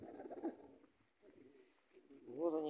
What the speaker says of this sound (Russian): Вот они, все вот эти голуби, которые были там.